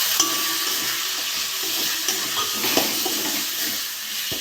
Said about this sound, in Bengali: একটু জল দিয়ে ভালো করে মশলাটা কষে নেব